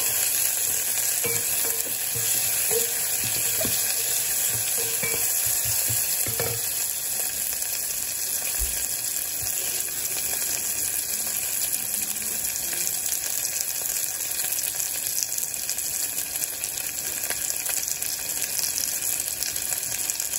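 Onions frying in a pan for a red cabbage stew, with a dense, continuous sizzle and hiss that holds steady throughout, close up, plus a few faint clinks and stirring sounds and no talking.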